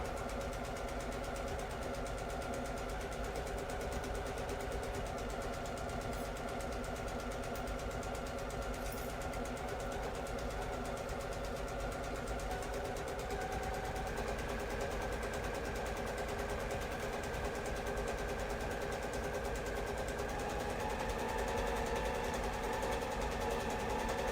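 A sewing machine stitches steadily around the pocket of a pair of track pants, its motor humming in one continuous, even run for the whole stretch.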